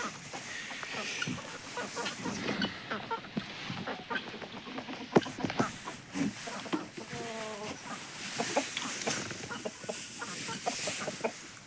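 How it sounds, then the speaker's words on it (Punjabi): Chickens cluck and a slightly sick rooster calls intermittently nearby, with scattered farmyard noises and rustling throughout. "ਆ ਦੇਖੋ ਬਈ ਮੁਰਗਾ ਆਪਣਾ"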